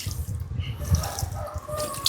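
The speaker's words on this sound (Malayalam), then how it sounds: "ആ ചാക്കിൻ്റെ മേലെ കൂടി കുറച്ച് വെള്ളം തളിച്ചു കൊടുത്തോ." Water splashing and trickling onto a sack laid over plants, a steady close wash of pouring and dripping with no voices.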